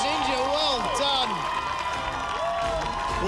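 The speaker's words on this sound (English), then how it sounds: "Give him a round of applause" A studio audience applauds and cheers for the barefoot ninja finishing the Australian Ninja Warrior grand final course, a steady wash of clapping under a commentator's voice throughout.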